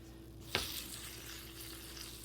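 Chaffle batter meets a hot waffle maker set to 350, a sharp hiss at the start that settles into a steady, fairly faint sizzle close by, with no talking.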